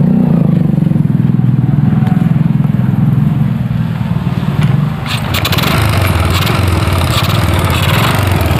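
A Honda Supra Grand motorcycle engine idles with a steady low rumble, close and loud, its tone turning rougher and more clattery partway through, with no talk over it.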